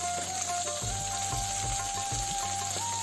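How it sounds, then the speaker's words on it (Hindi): Mustard and garlic masala fries in a pan on medium heat, a steady close sizzle with a few soft stirring knocks and a thin tonal hum running underneath. "मसाला के भी हम मध्यम आंच पर ही भूजबे"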